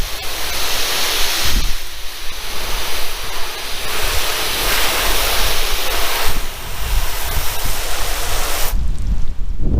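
Rinse water sprays and sheets off the freshly waxed paint of a 2012 Camaro 2SS RS, a loud, steady hissing wash that swells and dips over several seconds, close and continuous, with no talking.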